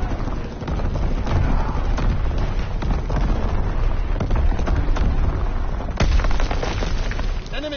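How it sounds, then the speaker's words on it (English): Incoming enemy artillery fire in a WWII video game, with loud repeated booms and crackling gunfire layered into a dense, continuous barrage, one sharp heavy impact standing out near the end. "Incoming enemy artillery."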